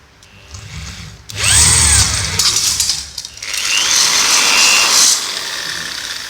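A power drill with a 4.8 mm bit whirs loudly in two sustained bursts, its motor whining as it bites through material, with a brief pause between runs.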